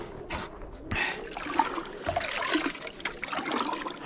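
Heated water is poured from a container to rinse ice out of pigeon waterers in a winter loft, a steady trickling and splashing stream running throughout under some background noise.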